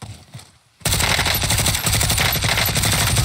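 Call of Duty Warzone gunfire: after a brief quiet lull, loud rapid automatic fire bursts in and continues as a dense, close, continuous rattle of shots.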